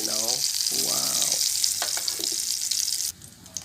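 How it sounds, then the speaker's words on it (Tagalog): A pot of mung bean (monggo) stew boils on the stove with a loud, continuous bubbling hiss. A brief voice sounds at the start, and the hiss drops off abruptly near the end. "So, kumukulo-kulo na."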